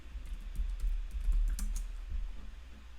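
Typing on a computer keyboard, a steady run of soft, close key clicks at a quick, even rhythm with no voices.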